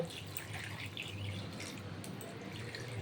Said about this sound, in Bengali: আর এবার দেবো আমি আন্দাজ মতো জল